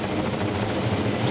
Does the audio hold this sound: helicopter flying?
yes